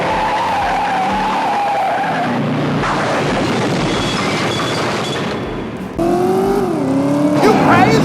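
Car tires skid and squeal over engine revving in the PS1 driving game Driver, loud and continuous, with screeches rising and falling as cars slide, under a steady rumble of racing and crash noise.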